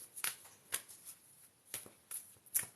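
Tarot cards are shuffled by hand in a row of crisp, close riffling bursts, about six quick flutters with short pauses between them, and no talking.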